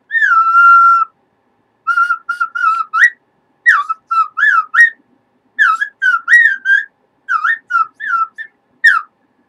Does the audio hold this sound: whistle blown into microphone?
yes